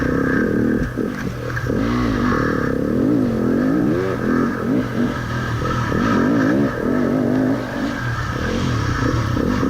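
A 250 dirt bike engine during a hare scramble race, loud and close, revving and rising and falling in pitch continuously as the rider works the throttle, with clattering over rough terrain.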